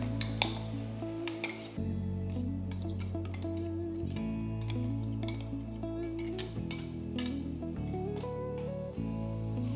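A masala mixture for fish masala is stirred and sautéed in a pan, with a steady low sizzle, repeated scraping and clinking of a spoon against the metal pan, close up and without talk.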